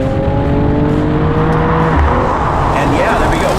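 An all-wheel-drive Tesla Model 3 launching at full throttle: a loud, continuous drivetrain and road roar with steady tonal whine lines, heard close and alone for a few seconds.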